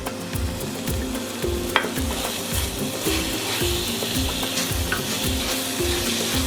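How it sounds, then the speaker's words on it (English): Indian beef madras sizzles steadily in the pan while being stirred with added coriander and seasoning, a continuous close frying hiss with rhythmic scraping and occasional utensil knocks. "Keep on stirring this all around to mix it all in."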